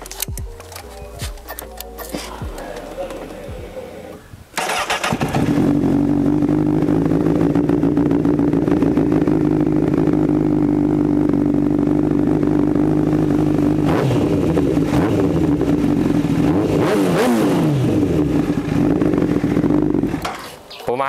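A heavily modified Honda CBR1000RR sport bike fires up after a few seconds of quiet clicking, then settles into a loud, rumbling idle with a couple of throttle blips near the end, heard close by.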